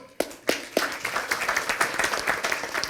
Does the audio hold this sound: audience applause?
yes